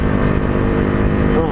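A KTM RC390 single-cylinder sport bike engine during a test ride, a steady loud drone with wind rush that holds through the whole stretch, with faint riding noise underneath.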